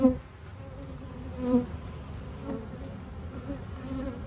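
Honey bees hum steadily around an opened hive during an inspection, a faint, continuous buzz with a few brief louder passes near the start and midway, no voices.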